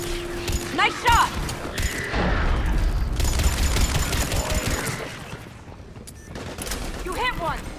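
Mass Effect 3 battle audio has bursts of gunfire and booming impacts under shouted dialogue and mechanical whines, busy and loud throughout.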